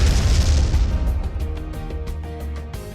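A heavy explosion booms from bombing in the space strategy game Chaos Galaxy, a deep rumbling blast that decays over a few seconds with faint clicks trailing behind.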